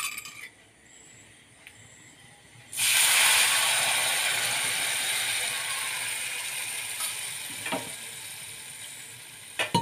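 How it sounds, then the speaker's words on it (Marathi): Amaranth flour batter mixed with water hits hot tempering oil in a pan for fasting pithla, bursting into a loud, sustained sizzle after a quieter stretch, then frying steadily with a few faint clinks. "आणि आता हे फोडणीमध्ये घालू आपण."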